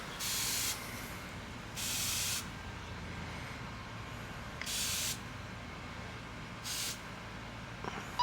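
A garden hose sprays water in four short hissing bursts on a hot Florida day, with quiet pauses between them and a faint background underneath.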